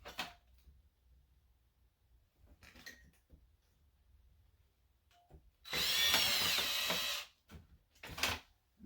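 Power drill biting into a wooden wall stud while mounting a TV bracket: one loud sustained whir of about a second and a half, then a short second burst, after quiet knocks and handling.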